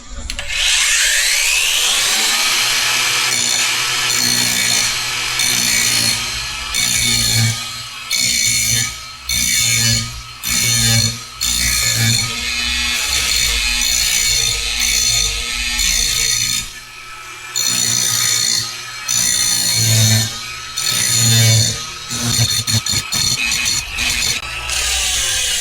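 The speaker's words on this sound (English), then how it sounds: "So I need to grind this off first." An angle grinder cutting off the head of a drive chain rivet pin before the link is pressed apart, a loud continuous metallic grinding whine with brief dips as the disc is lifted and pressed back onto the pin.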